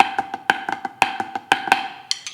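Snare drum strokes play a flam accent pattern with the accent on the third partial, crisp and close, grouped in repeating three-note figures with the louder accented hits standing out, no voices.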